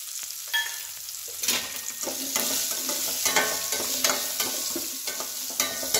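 Sliced onions, curry leaves and green chillies fry in hot oil in a pan for a home-cooked sambar, giving a steady sizzle broken by the scrape and clatter of a spoon stirring at irregular intervals, close by with no voices.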